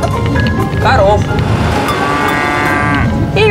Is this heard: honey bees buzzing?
no